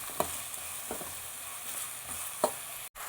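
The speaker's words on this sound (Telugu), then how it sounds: "ఇప్పుడు 2 చాప్డ్ ఆనియన్, దీన్ని చక్కగా వేయించుకుందాం." Chopped onions sizzle steadily in about four spoons of hot oil for a mutton brain fry, with a soft continuous hiss and a few faint stirring clicks from the pan.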